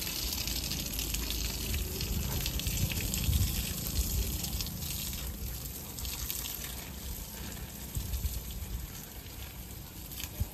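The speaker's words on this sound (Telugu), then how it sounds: "మళ్ళా మనం డ్రిప్ వేసినప్పుడు పైపు దగ్గర నీళ్ళు కారుతాయి" Water pours steadily from a drip irrigation pipe into a large tank on a farm, making a continuous hissing gush that stays even throughout with no voices.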